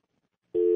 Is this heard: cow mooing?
no